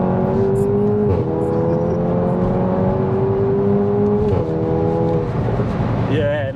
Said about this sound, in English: You're not going to get the best noises out of a 4-port out of the TSI engine